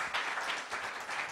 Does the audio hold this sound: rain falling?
no